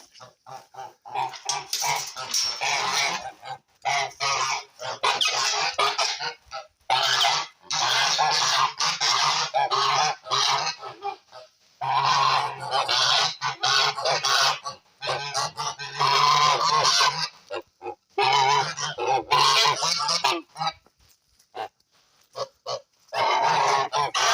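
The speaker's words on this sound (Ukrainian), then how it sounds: "наші гусочки" A flock of Kholmogory geese honks loudly and continuously in close, overlapping bursts, with a few brief pauses between calls.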